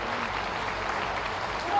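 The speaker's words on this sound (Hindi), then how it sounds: "आप सब लोग एक बार माननीय मुख्यमंत्री जी को ताली बजा करके उनका स्वागत करें।" Audience clapping to welcome the chief minister at a public event in Mau launching development projects, a steady wash of applause throughout, moderately loud with no voices on top.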